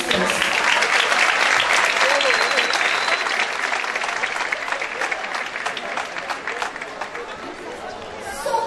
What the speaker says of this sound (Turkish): kocaman alkışlarımızı istiyoruz